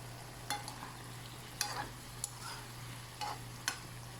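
Pinakbet vegetables get stirred in a pan with cooked bagoong, making a few soft intermittent scrapes and faint sizzles over a steady low hum.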